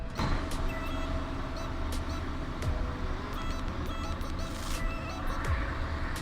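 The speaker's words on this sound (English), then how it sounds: "This Mercedes Actros truck is having a problem on gearbox BEZ G240-16. Bad sound when shifting the gears." A Mercedes Actros truck with a defective splitter switch on its BEZ G240-16 gearbox runs with a steady, close engine rumble broken by faint clicks and knocks.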